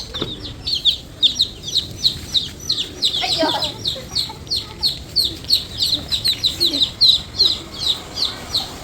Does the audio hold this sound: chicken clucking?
yes